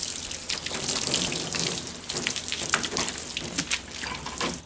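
Water sprays in a driveway to wet down a car, a steady hissing splash with uneven bursts as the stream moves across the surfaces, fairly close and with no talking.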